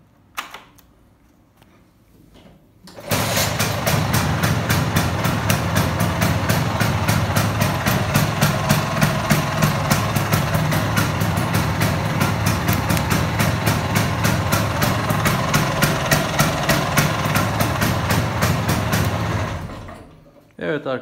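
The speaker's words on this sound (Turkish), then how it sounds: "Şimdi hemen basıyoruz motorumuza." A Vespa PX scooter engine, just repaired after broken wires were soldered, starts after a few quiet seconds and runs steadily and loudly with a fast, even two-stroke putter, then cuts off near the end.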